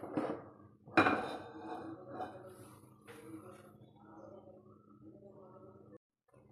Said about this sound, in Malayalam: ഇനി ഇത് നമ്മൾ ഈ അടുപ്പിൽ നിന്ന് മാറ്റിയെടുക്കുകയാണ്. മറ്റൊരു പാൻ വെച്ച് കൊടുക്കുകയാണ്.